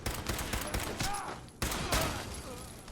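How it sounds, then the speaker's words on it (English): Rapid bursts of gunfire from a Fallout 4 firefight crackle in quick, dense succession, loud and close, with a brief lull near the middle before the shooting resumes. "Did you see opening fire?"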